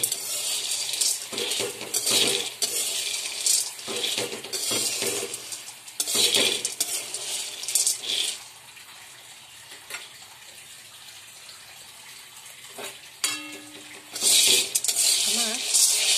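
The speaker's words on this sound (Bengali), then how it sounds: "শুকনো কড়াইতে ছোলাগুলো এরকমভাবে নাচতে নাচতে একটা শুকনো গন্ধ বেরোচ্ছে ছোলার" Soaked chickpeas dry-roasting in a dry wok, bursts of rattling and scraping as they are stirred and tossed against the metal, with quieter pauses and faint sizzle between.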